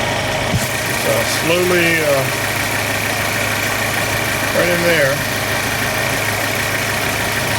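A 2012 Chevrolet Cruze turbo engine idles with a steady, close mechanical hum while someone speaks twice over it.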